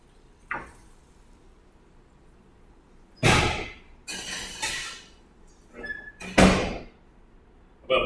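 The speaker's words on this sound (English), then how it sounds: "Now I'm going to stick this right in the oven." A home oven door is opened and shut while pork tenderloin goes in, giving a faint clunk, then loud hinged creaks and a firm closing thud with a metallic rattle, close by, with no speech.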